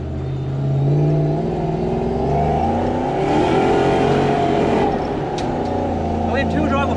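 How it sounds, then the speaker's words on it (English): Supercharged 106-series Toyota Hilux engine revving hard while the truck is warmed up for skids, a steady loud mechanical drone rising and falling with throttle, with talking over it. "Let's warm it up. I'm going to do some skids,"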